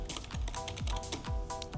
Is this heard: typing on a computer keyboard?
yes